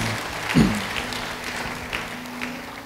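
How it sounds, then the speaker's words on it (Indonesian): Church congregation gives light applause during a sermon, a soft, sparse patter of clapping over a low hum, with a single brief thump near the start. "Yang paham beri tepuk tangan bagi dia."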